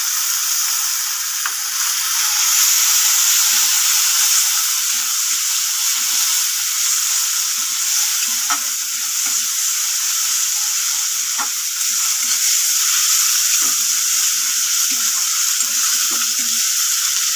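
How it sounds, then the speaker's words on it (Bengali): Ginger-garlic paste with green chili and tomato paste fries in a pan, a continuous bright sizzle with scattered soft stirring scrapes and taps, close and steady, with no talk. "এটাও একটু ভেজে নেবো হালকা করে।"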